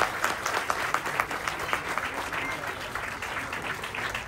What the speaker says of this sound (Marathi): एक जोरात टाळ्या वाजवून जायला पाहिजे यार.